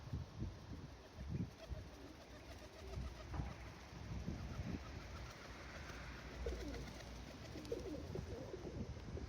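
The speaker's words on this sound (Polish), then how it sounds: "cała para fajnych gołębi młodych wyszła" Young Mikołajewski pigeons cooing repeatedly at close range, low soft calls over a steady background hum.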